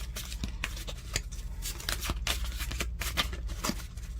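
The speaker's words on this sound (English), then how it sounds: "Kind of like when it's like you're shuffling and they almost come out, but not quite come out." Tarot cards are shuffled by hand in quick, uneven bursts of riffling and slapping, close and fairly loud, with no talk over them.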